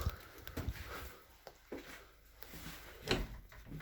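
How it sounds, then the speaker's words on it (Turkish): Someone tries the locked front door of an abandoned new house in Yağcılar village, Gebze: a few scattered knocks, rattles and thumps of the door that won't open, close and fairly quiet, with a sharper clack near the end. "Şu an kapı kilitli. Kapı açılmıyor."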